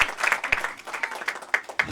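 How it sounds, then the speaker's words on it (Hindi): Church congregation clapping at an evangelical Christmas meeting, a brief burst of dense applause with sharp individual claps standing out, close and lively, no talking. "क्या अपने खुदा की तालियां नहीं लगाएंगे?"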